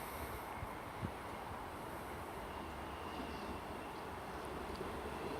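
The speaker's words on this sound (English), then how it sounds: "coming in now is a 10:33 service from Cardiff Central to Cardiff Central from Taunton, and it's 158766 returning" Class 158 diesel multiple unit 158766 arriving at Highbridge station, a faint, distant steady rumble of the approaching train mixed with wind-like outdoor noise, with no talk.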